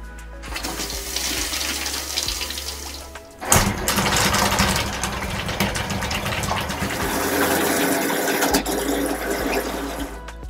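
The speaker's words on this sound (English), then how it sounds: "On the inside of the camper, go ahead and turn on your water pump." Water pump in a TAB 400 camper running sanitization fluid through the faucets, a loud steady whirring hum with rushing, gushing water and a low motor drone throughout, briefly interrupted by a bang midway.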